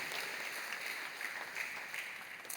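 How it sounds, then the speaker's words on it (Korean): A church congregation applauds together in welcome, a soft, steady patter of many hands clapping that holds evenly from start to finish at low volume. "여러분께 박수로 환영하시죠"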